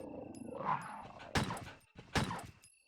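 Resident Evil: Director's Cut video game dog gives a low growl followed by two sharp, harsh snarling bursts, close and isolated with quiet gaps between them.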